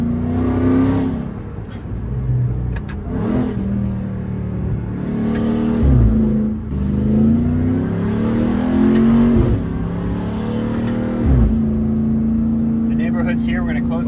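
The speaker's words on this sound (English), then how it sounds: "I'll click the valves open. Now you can hear in here a lot more kind of bass." Supercharged Ram TRX pickup with Valvetronic Designs universal mufflers, exhaust valves open, revving repeatedly in deep, bassy surges that rise and fall, loud and close, with talk over parts of it.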